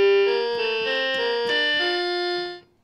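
A Simba children's toy keyboard's synthetic trumpet voice plays a short run of brassy notes, each changing pitch, then cuts off abruptly; bright and close, no voices.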